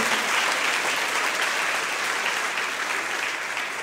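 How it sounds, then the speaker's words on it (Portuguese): A church congregation claps together in sustained, dense applause that stays loud and steady throughout, with no voices standing out above it. "Você pode aplaudir esse Deus que cuida de você?"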